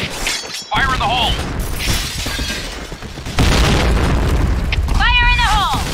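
A heavy boom from a grenade blast in the shooter game Point Blank erupts partway through, loud and close, amid ongoing game effects, announcer-style chirps and a speaking voice.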